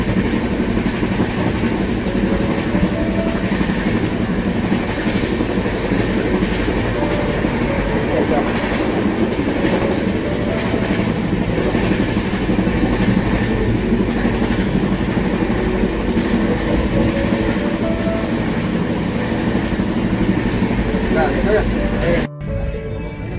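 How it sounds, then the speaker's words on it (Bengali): A Shatabdi Express train runs into Bardhaman station, its steady rumble and rhythmic wheel clatter filling the scene from inside the carriage, with people talking throughout. "আমাদের ট্রেন বর্ধমান ঢুকলো"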